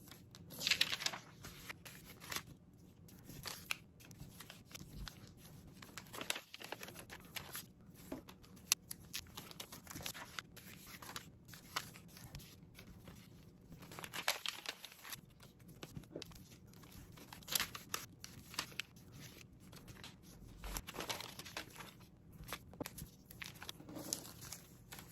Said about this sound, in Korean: 한번 접어 보겠습니다.